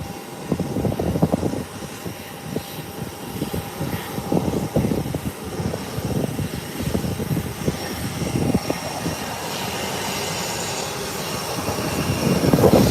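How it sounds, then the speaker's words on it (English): A Beechcraft 1900 twin-turboprop lands at Howard Hamilton International Airport in the Turks and Caicos Islands, its engine and propeller roar rumbling and droning steadily, swelling louder toward the end. "the two aircrafts that just landed, both Beechcraft 1900"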